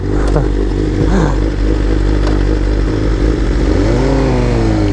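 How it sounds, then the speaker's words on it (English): A 2023 BMW M1000RR superbike running on E85 fuel, ridden on the road: a loud, steady engine drone with rising harmonic sweeps near the end as it accelerates. "we are on Troy's from BC Moto, his 23 M1000RR"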